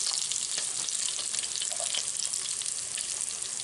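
Pieces of hog jowl fry in a Dutch oven with a loud, dense, continuous sizzle, sharp little pops crackling through the hiss the whole time.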